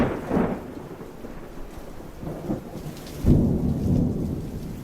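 Thunderstorm with steady rain and low rumbling thunder, one roll early and a heavier, nearer rumble later, all continuous and without voices.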